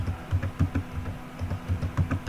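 Rapid, uneven keystrokes on a computer keyboard, typing out a web address during a software setup, clattering at close range with no voice over them.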